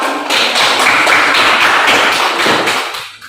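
Schoolchildren in a classroom clap together for their classmates: a dense, steady burst of applause lasting about three seconds that fades out at the end, with no voices over it.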